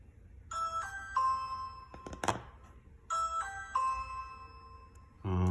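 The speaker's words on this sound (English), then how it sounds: "the trademark ring doorbell noise played" A bootleg Ring doorbell built from an M5 stick device plays its two-part electronic chime twice. A brief click or clatter falls between the chimes, and another short sound starts as the second chime finishes.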